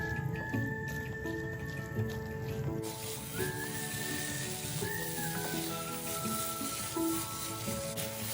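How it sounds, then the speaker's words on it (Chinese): Red beans with coconut milk and a little salt stir-fried in a pan over medium-low heat give a close, steady sizzle, with soft stirring scrapes and a few bubbling pops. "将蜜豆加热翻炒香。"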